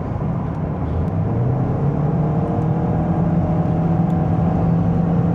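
A 2024 Toyota Corolla 1.8 hybrid with a 140 hp petrol engine and CVT runs in sport mode at around 100 km/h, a steady low engine drone and whir heard from inside the cabin.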